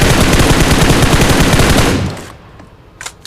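A rapid automatic gunfire burst from the video game PUBG Mobile rattles loudly for about two seconds, then breaks off into quieter background game sounds.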